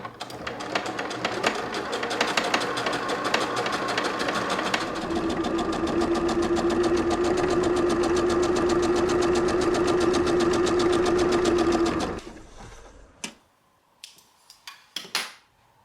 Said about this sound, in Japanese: 胸のダーツを縫っていこう。